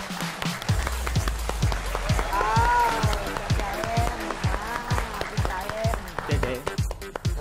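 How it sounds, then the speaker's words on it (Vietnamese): Clapping from a TV studio audience in a fairly steady rhythm of distinct claps, with a voice talking over it. "Chúng ta hãy vỗ một tràng pháo tay thật lớn"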